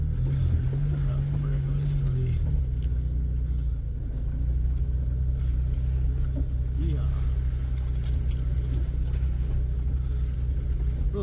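A 2001 Jeep TJ idles through soupy mud with its lockers off, a steady low engine rumble with wet churning running continuously up close.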